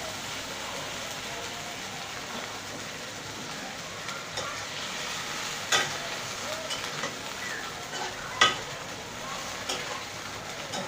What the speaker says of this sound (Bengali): এখন মাছটা একটু কষায় নেব।